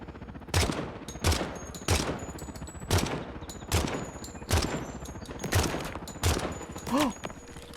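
Gunfire in a video game aimed at a helicopter's fan blade: about ten loud, evenly spaced heavy shots, roughly one every 0.7 seconds, each with a short ringing tail, close and dominant.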